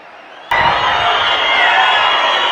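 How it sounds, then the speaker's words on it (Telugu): A crowd at a public government event in Kurnool district bursts into loud, sustained applause and cheering as the Chief Minister hands a cheque to women. The noise starts abruptly and holds steady at full volume. "గట్టిగా చప్పట్లు."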